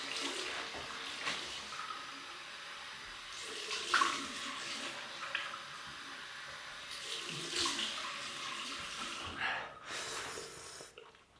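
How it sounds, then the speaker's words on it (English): Cold water splashing from a tap during a rinse after a wet shave with a double-edged razor, intermittent bursts of running and splashing water with faint breaths and snorts, close and quiet. "Right, cold water rinse."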